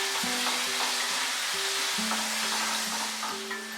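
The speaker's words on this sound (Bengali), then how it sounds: "আলুগুলোকে কিন্তু মাঝারি আঁচে ভালো করে ফ্রাই করে নেব" Diced potatoes fry over medium heat for an aloo matar curry, giving a steady, fairly loud sizzle, while a spatula scrapes and stirs at intervals with soft knocks against the pan.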